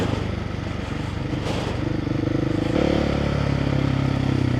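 A 2026 KTM 690 Enduro R single-cylinder engine pulses close while riding off-road, with a rapid thumping exhaust that rises as it accelerates, along with clattering and scraping from the terrain.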